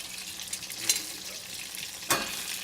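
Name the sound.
butter melting and browning in a pan on high heat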